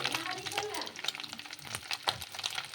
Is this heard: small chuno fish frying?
yes